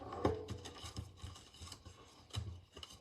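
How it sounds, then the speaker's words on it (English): Scored paper is folded and burnished for a square treat basket, giving short dry rubbing and creasing strokes in an uneven rhythm, close and fairly soft. "Fold and burnish,"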